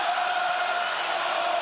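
A football crowd roars in a steady, dense wash of noise at a Southampton match in the 2023/24 Championship, loud and unbroken throughout with no clear individual voices.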